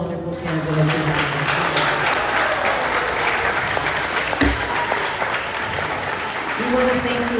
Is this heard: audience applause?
yes